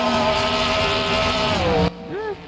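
An engine revs hard and holds a loud droning whine as a car launches off the trans brake in the BeamNG racing game, then cuts off abruptly, leaving a brief fainter rising tone.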